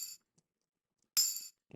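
A dry tambourine part in Logic Pro: a couple of bright jingling shakes, one short at the start and a fuller hit about a second later, then a soft tap, sparse and unprocessed with silence between.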